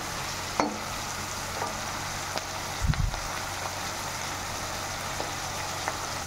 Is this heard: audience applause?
no